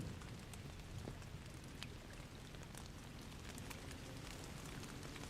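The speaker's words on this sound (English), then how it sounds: "You can hear the rain." Steady hiss of rain falling at an outdoor rowing regatta, dense and continuous with scattered drops pattering on surfaces throughout.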